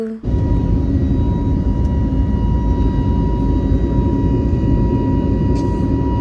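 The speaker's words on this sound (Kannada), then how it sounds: "ಅಂತೂ ಇಂತೂ ಫೈನಲಿ ನಮಗೂ ಟೇಕ್ ಆಫ್ ಆಪು ಟೈಮ್ ಬಂತು" An airplane on its takeoff run, a loud, steady engine roar with a sustained hum that holds evenly for the whole stretch, with no voices over it.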